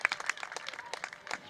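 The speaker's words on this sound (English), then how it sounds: "Getting a good hand from the crowd." Spectators at a high school softball game give a brief burst of applause, a quick patter of many hands clapping together that comes from a moderately close crowd.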